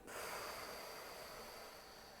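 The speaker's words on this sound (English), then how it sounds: "Let's get into the breathing, and let's inhale." One long, breathy exhale during a guided breathing exercise, soft and close, starting with a quick rush of air and fading gently over two seconds.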